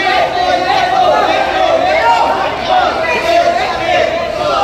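Loud, dense crowd roar and shouting fills an MMA fight venue in the Philippines, a steady wall of overlapping voices with no break throughout.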